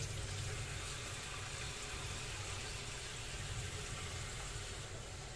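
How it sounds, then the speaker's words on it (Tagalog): Water poured into a cooking pot of sautéed chicken for sinigang, a steady rushing fill sound that runs without a break. "Tapos lagyan natin ng tubig."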